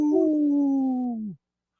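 A person imitates a wolf howl in one clear, sustained, gently falling note lasting just over a second, then it cuts to silence.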